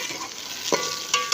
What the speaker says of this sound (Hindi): प्याज ब्राउन होने तक